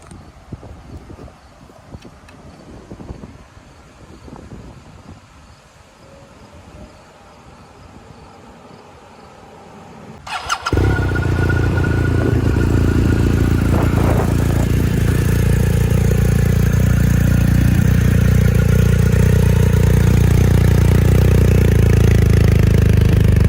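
Quiet clattering and faint engine noise give way to a loud, close BMW R1250R motorcycle engine roaring as it accelerates, mixed with heavy wind rush.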